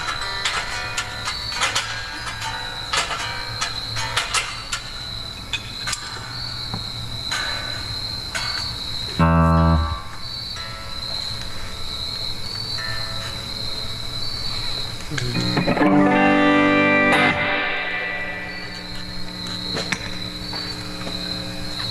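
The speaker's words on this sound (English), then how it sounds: "Hear them crickets?" Crickets chirp steadily through a night setting, a dense high-pitched trill running the whole way beneath louder rumbling and clattering noises that swell midway and again near the end.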